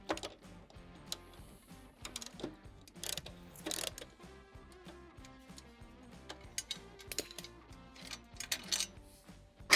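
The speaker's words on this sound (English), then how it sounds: "I'm gonna take these 2 bolts out so we can get it out of the way." A ratchet removes the bolts from the strut cover of a Harley-Davidson Sportster, in quiet, close, irregular bursts of clicking with small metallic taps between them and no voices.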